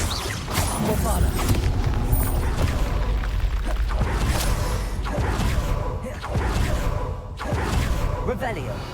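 Repeated Bombarda explosion spells booming in Hogwarts Legacy, several heavy blasts with whooshing bursts spaced across the stretch, loud and close over dense game noise and clutter.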